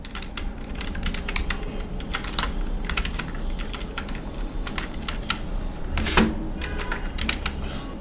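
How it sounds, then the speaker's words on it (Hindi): A number being typed on a computer keyboard: a steady, close run of light key clicks with uneven rhythm and one slightly heavier press near the end, over a low background hum, with no speech. "देखो मैं अपना आधार नंबर टाइप कर रहा हूँ।"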